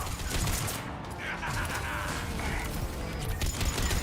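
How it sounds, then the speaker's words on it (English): Rapid automatic weapon fire in Mass Effect 3, a steady stream of shots pounding a target, fairly quiet with mechanical clatter and brief voice fragments in the mix. "Just pounding a bunch of bullets into it like this"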